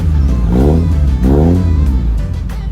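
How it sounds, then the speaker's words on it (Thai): The engine of a 2003 Honda City with a 6-speed automatic idles loud and close, then revs up twice in smooth rising sweeps that each settle back down. "เครื่องนิ่มๆเลยนะครับสียงนุ่มๆเพราะๆนะครับไม่ดังนะครับ"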